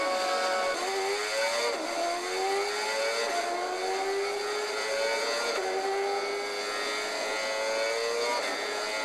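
Race car engine in a racing video game at Laguna Seca, loud and continuous, revving up through the gears in rising whines with brief dips at each shift, no talk.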